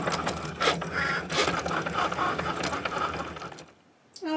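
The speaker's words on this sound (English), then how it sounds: "So now we're ready to cut everything out on the machine." A Cricut machine cutting out a hat box design whirs and chatters steadily nearby, then falls quiet near the end before a brief tone.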